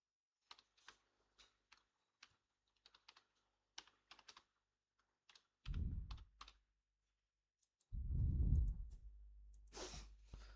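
Bursts of key taps on a computer keyboard while filling in a Google Form, coming in short irregular clusters with pauses, close and fairly quiet, broken by two louder low rumbling thumps near the end.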